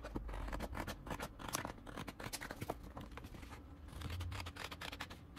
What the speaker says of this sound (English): we're gonna take the scissors and we're just gonna cut that out